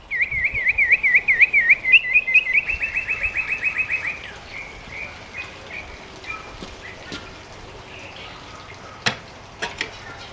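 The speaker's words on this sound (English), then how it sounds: "Listen to those birds." Songbirds chirp outdoors near a lake in a quick, rhythmic run of bright, close calls that fade into scattered faint chirps over a low background hiss.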